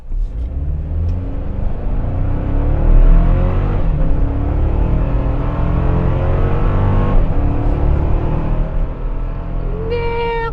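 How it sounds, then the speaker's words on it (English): A 2024 Toyota Tacoma TRD Off-Road in sport mode and four-wheel drive accelerating hard, its engine droning and rising steadily in pitch, loud from inside the cabin, with a shift near the end. "put this in sport mode so we can kind of whack the accelerator and see what's going on"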